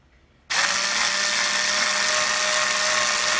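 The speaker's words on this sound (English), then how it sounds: "I'm drilling into that epoxy I put in there before" A cordless screwdriver drills into hardened epoxy in a converted M5-1 bayonet trench knife. After a moment of quiet it starts suddenly into a steady, high-pitched motor whine that keeps grinding on evenly at close range.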